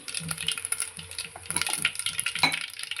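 Mustard seeds crackle and spit in hot oil as the tempering for Maharashtrian buttermilk kadhi begins, a close, busy run of small pops and sizzles with no talking.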